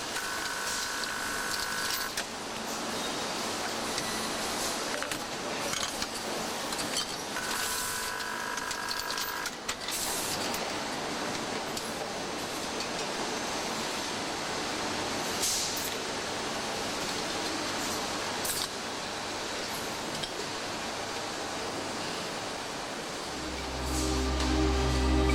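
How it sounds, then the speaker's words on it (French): An automated machine in Citroën's Caen factory assembles needles and rollers onto a tripod joint, giving a dense, steady mechanical whirring and clatter with repeating cycles, continuous throughout and loud, with a low thud near the end. "Le montage des aiguilles et des galets sur le triaxe est effectué par une machine"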